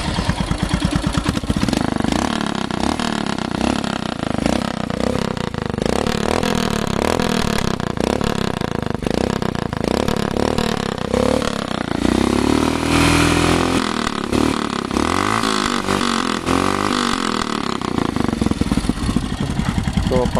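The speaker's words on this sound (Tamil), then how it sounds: "ஸோ வாங்க இப்போ நம்ம வந்து வண்டியோட வந்து எக்ஸாஸ்ட் நோட் செக் பண்ணுவோம்" Royal Enfield Himalayan BS6 motorcycle with a modified, uplifted exhaust, revved repeatedly in loud, close bursts over a steady idle that runs throughout.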